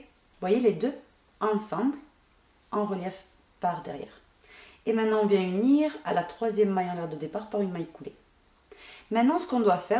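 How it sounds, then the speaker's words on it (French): Indoor crickets kept as lizard food chirp in short, regular high-pitched bursts that repeat steadily in the background while someone speaks French close to the microphone. "désolé pour le bruit des grillons"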